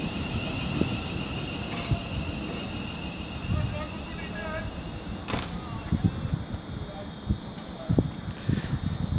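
A West Midlands Railway train rumbles at Wolverhampton station on the West Coast Main Line, a steady low mechanical drone with occasional clanks and squeals, voices faintly present in the station.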